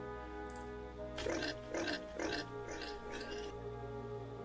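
A pig grunts in a video game as a peasant leads pigs to slaughter, giving a rhythmic series of five or six snorting oinks over a steady background hum.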